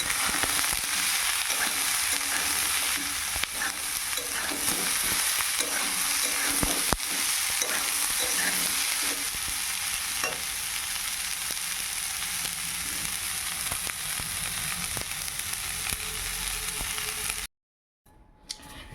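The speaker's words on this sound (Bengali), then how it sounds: "একটু জিরের ফোড়ন দিয়ে দিলাম" Cumin seeds temper in hot oil in a pan for a cauliflower curry, a bright continuous sizzle with stirring clatter, running steadily before cutting out abruptly near the end.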